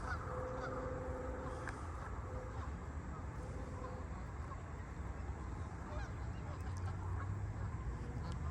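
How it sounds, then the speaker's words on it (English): Geese honk in a park, several calls heard at a distance over a steady outdoor background hum, fairly faint overall. "this is another view of the geese."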